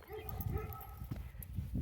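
Puppy barking in short yips and woofs, close by and fairly loud, mixed with a person's voice talking over it throughout.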